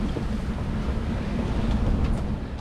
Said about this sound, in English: waves keep coming over the deck, and then if you're in the cockpit, you get soaked